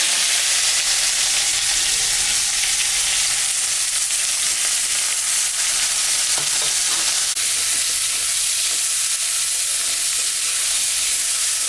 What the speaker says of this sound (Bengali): পেঁয়াজ শুকনো লঙ্কা সম্বরা দিলাম তেজপাতাও দিয়ে দিলাম কাটা পেঁয়াজটা আমি দিলাম